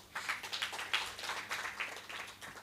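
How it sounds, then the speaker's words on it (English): Brief scattered clapping from a small audience in a research colloquium, light and uneven, rising and falling over a couple of seconds. "Another round of applause."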